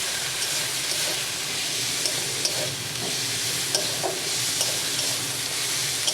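Chopped tomato and spices frying in a pan on low heat, a steady close sizzle and hiss with light stirring scrapes and no talking.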